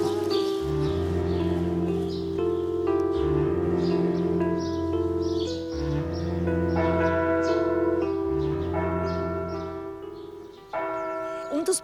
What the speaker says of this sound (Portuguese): ir dormir e acordar com os sinos das igrejas